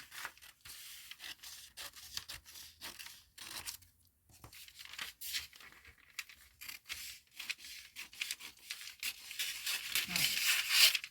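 Paper scissors cut along a line on a sewing pattern during a shoulder slope adjustment, giving a series of quiet, close snips and crisp paper rustles that build louder toward the end, with no voices.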